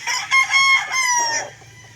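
A gamefowl rooster in a small backyard poultry pen crows loudly and close, its call broken into a couple of rising, strained bursts with clucking mixed in, lasting about two seconds.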